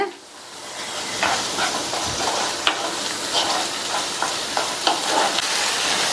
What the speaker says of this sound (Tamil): நல்லா மிக்ஸ் பண்ணி விட்டுட்டு மூடி வச்சிருங்க.